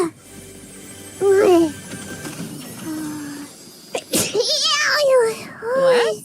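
Several sneezes burst out in quick succession from a young-sounding voice, close and loud, with brief speech and exclamations between them.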